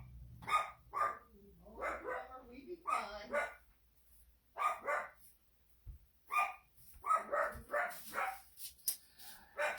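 A dog named in the talk as barking at the mailman gives a run of sharp, repeated barks in short bursts, near and fairly loud, spread across the stretch with gaps between volleys.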